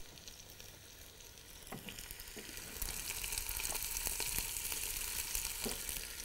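Onion sizzling and frying in hot oil with chili, ginger and lemongrass for a Thai-style noodle dish, a steady crackling hiss that grows louder partway through, with a few stirring knocks and no talk.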